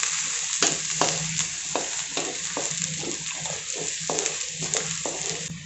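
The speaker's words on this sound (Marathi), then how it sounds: "कांदा मी फुल गॅसवरतीच परतून घेत आहे" Chopped onion sautéing in a pan over a full gas flame, a steady close sizzle with repeated scraping stir strokes throughout, no voices.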